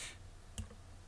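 A single brief computer mouse click during 3D box modelling in 3ds Max, soft and close over a low steady hum.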